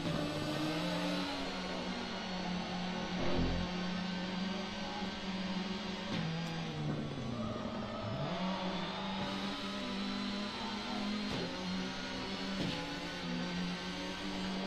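Peugeot 306 rally car engine from the PS1 rally game Michelin Rally Masters, a steady loud droning hum with pitch dips and rises as it revs and shifts, running continuously with no voices.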